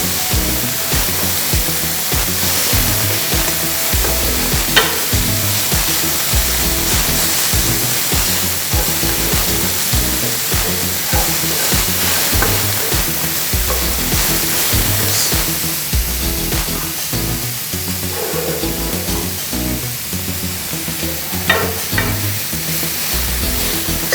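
Vegetables sizzle and crackle in hot oil as they fry for Swahili bhajia, a steady, loud, close frying hiss with stirring, lasting throughout with no talk.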